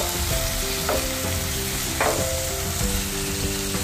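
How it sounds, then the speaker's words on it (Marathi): Three medium tomatoes, finely chopped, hit sautéed onions in a hot pan and sizzle loudly and continuously, with a few spatula scrapes as the mixture is stirred; nobody speaks. "कांदा छानपैकी परतून घेतलेला आहे, तर आता ह्याच्यामध्ये 3 मीडियम साइज टोमॅटो बारीक चिरून घेतलेले आहेत ते घालते"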